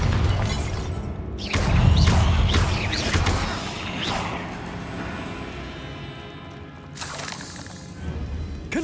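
Bombarda explosion spell in Hogwarts Legacy: a loud blast with shattering, crashing debris and whooshes, rumbling for several seconds and then flaring again in a second burst near the end.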